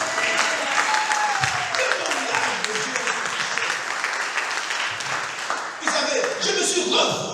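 A church congregation at a Sunday service applauds and cheers continuously, a dense, loud wash of clapping with voices mixed in, dipping briefly near the end before swelling again.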